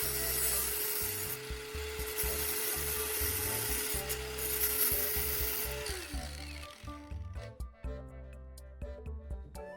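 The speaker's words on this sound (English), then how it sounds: "I'm using pliers to hold the can steady while the grinder does its work." An angle grinder cutting through a tuna can held steady with pliers, giving a loud continuous whine and grating buzz for about six seconds before it winds down, followed by scattered metallic clicks and scrapes.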